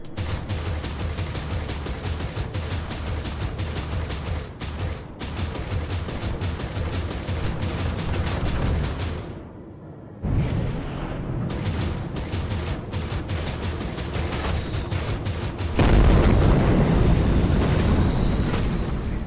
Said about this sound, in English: Someone's firing a lot of missiles at me.